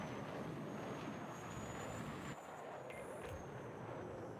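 A fighter jet in Battlefield 6 flies with a steady, faint engine roar and rushing air, continuous throughout with a brief dip midway and no talking.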